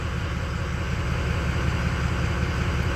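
Diesel truck engine idling with variable geometry turbo, a heavy low rumble pulsing in a steady rhythmic surge, loud and close, running alone without talk.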